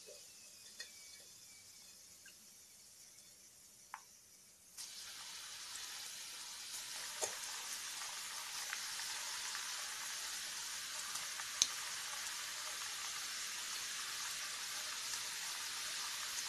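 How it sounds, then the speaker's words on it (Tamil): Laddu dough frying in hot oil, a continuous bright sizzle that swells louder after a few seconds and holds steady with occasional sharp pops, close and unaccompanied by speech. "சவுண்டு பாருங்கள், லைட்டாக கிறிஸ்பாக இருக்குது. இதே மாதிரி எல்லாமே பொரிச்சு எடுத்துடலாம்."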